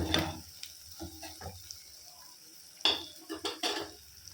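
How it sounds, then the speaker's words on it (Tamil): Masala sautés in a pan over a low flame, with soft scraping and clinking of a spoon against the pan in short bursts, light sizzle beneath, no voices. "முடிஞ்ச அளவுக்கு ஸ்டவ்வை லோ ஃப்ளேம்லேயே வச்சு நல்லா வதக்குங்க."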